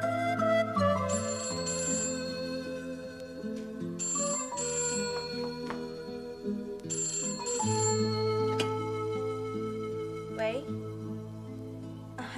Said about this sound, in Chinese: 啊莹姨你电话啊